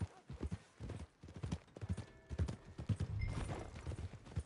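Horse hooves clip-clopping in Red Dead Redemption 2 as a horse is ridden toward stables, a steady close rhythm of hoofbeats with a faint whinny, no talking.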